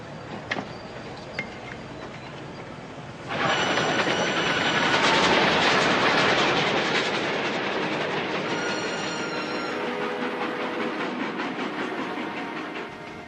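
A locomotive-hauled train rolls along rails at a railway station, a steady loud rumble with rhythmic wheel clatter and metallic squeals that swells after a quieter opening and stays close throughout.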